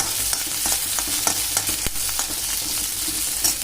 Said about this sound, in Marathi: आता ह्याच्यात मिरची टाकून घेऊया व गॅस कमी करायचा पूर्ण,